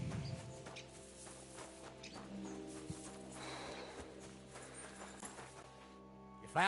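Horse hooves clip-clop at a steady walking pace in the video game Kingdom Come: Deliverance II, fairly soft beneath a sustained musical score, with no talking.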